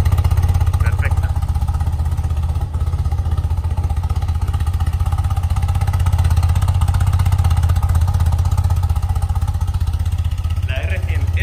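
A classic BMW R100 boxer-twin motorcycle engine runs steadily just after starting, a loud, close, continuous low idle with a throbbing pulse and some mechanical clatter.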